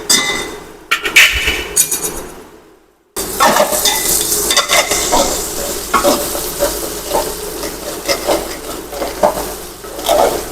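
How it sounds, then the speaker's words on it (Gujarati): Bitter gourd sabzi cooks in a pot while a utensil stirs it, producing a loud continuous sizzle with scraping and clinking metal knocks, after a brief quiet pause near the start. "થોડી વાર એને હલાવતા રહેવું પડશે કે ચોટી ન જાય તપેલીમાં"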